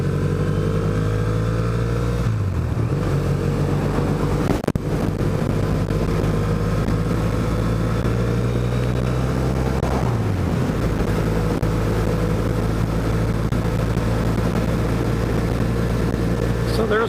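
A motorcycle on a casual Saturday ride: a steady engine drone with wind rush throughout, and the pitch dipping briefly twice as the rider shifts.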